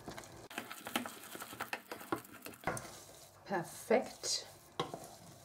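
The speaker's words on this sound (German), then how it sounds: "jetzt das Mehl auf einmal hinzugeben und gut umrühren" Choux pastry dough of flour being stirred in a pot, giving soft irregular scraping and sticky patting strokes, close and quiet, with a short spoken word partway through.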